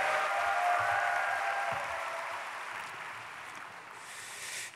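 Church congregation at a prayer meeting for peaceful reunification applauding to welcome a pastor to the pulpit, sustained crowd clapping filling the room and gradually tapering off.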